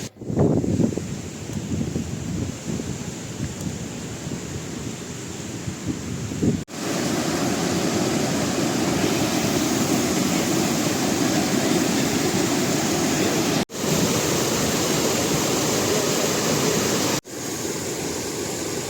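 A monsoon-swollen mountain river on a trek near Manali, rushing in a loud, steady roar with heavy wind buffeting the microphone, continuous and close with no voices.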